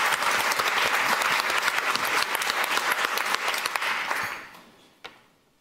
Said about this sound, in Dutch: Geef een warm applaus, Arre Suurmond.